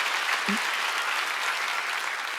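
Church audience at a Wednesday worship service clapping in a dense, continuous burst of applause that stays steady throughout, with a brief low thump near the start.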